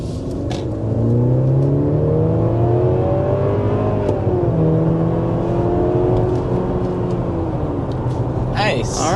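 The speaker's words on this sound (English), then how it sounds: "there we are, accelerating up to 60 miles per hour" A 2024 Mercedes GLC 300 accelerates to 60 mph, its engine note rising and shifting through gears as a steady interior hum. A person talks over the engine for most of the clip.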